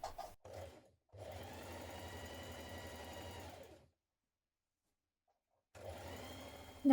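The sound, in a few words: sewing machine stitching darts on waistcoat back pieces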